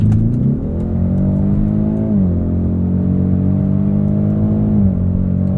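A 2020 Ford Mustang EcoBoost with the High Performance Package in track mode, its engine droning steadily and loud up close, with the pitch stepping up on quick automatic downshifts around two and five seconds in.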